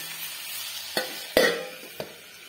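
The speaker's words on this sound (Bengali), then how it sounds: "এরপর এগুলো ভালোভাবে নাড়াচাড়া করব।" Cut potato and eggplant being stirred in a frying pan, a soft steady sizzle with three distinct spatula knocks against the pan, the middle one loudest.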